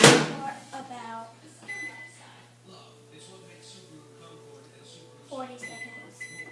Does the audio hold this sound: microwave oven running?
yes